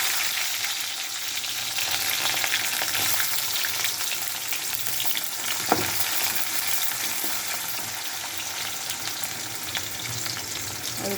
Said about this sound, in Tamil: இதையெல்லாம் போட்டு இப்போ வதக்க போகிறோம். இப்போ சின்ன வெங்காயம் போட்டுக்கலாம்.